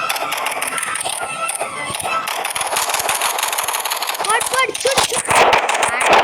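Rapid automatic gunfire from a hide-and-seek shooting video game, loud and sustained in dense bursts throughout with game effects layered over it.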